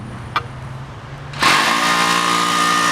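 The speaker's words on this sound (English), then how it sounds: "Now we're drilling the holes for the beton" A power drill whirs up abruptly and runs steadily while drilling holes during assembly of a metal storage shed, loud and close after a quiet start with a brief click.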